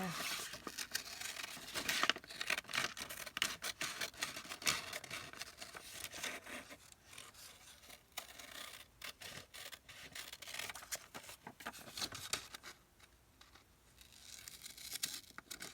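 Paper crinkles and rustles as a piece is cut out with scissors for a trifold tag wallet style folio, the faint, close snipping and handling continuing steadily under occasional quiet talk.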